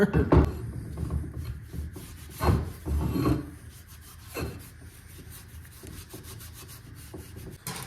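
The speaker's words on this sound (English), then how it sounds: "the scuff pad works a little bit" A scuff pad rubs over a part from a 351 modified engine teardown, giving irregular scraping strokes, a few louder bursts early and softer rasping after, close by with no speech.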